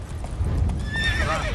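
Roach the horse in The Witcher 3 galloping, with rapid hoof clip-clops up close and a neigh rising over them near the end.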